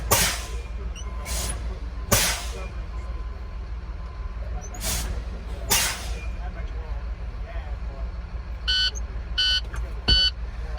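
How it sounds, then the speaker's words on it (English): A steady diesel truck idle with sharp air hisses during an air brake test, then three short harsh buzzes of the low-air warning buzzer near the end as pressure drops to about 63 PSI. "low air warning light and buzzer"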